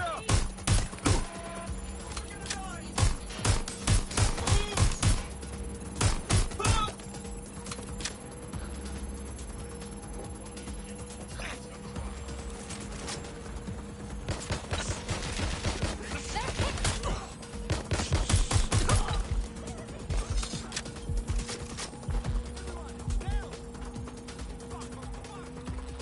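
Gunfire in the video game Watch Dogs: Legion, rapid bursts of sharp cracks that come and go over a steady mechanical hum, dense and close.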